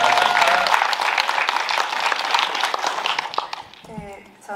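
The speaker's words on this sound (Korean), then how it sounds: "박수 한번 주세요" Applause at a press screening of the film 'Rage River': a dense crowd ovation that starts loud, gradually thins and fades, and a voice begins speaking as it dies away.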